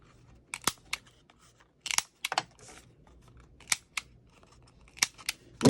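Scissors trimming paper at a scrapbooking craft desk: a few sharp, close snips and crunchy cuts spaced out irregularly, with quiet handling between them and no speech.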